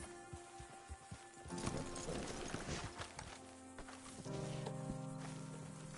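Horse hooves in a video game clip-clop faintly in a steady walking rhythm, mixed with soft background tones.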